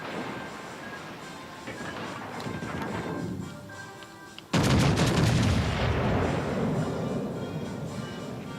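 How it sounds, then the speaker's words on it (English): A sudden heavy blast of naval guns firing at an enemy warship in World of Warships: Legends, a booming salvo that rolls on with a long rumbling tail after a quieter lead-in. "fire on the enemy warship"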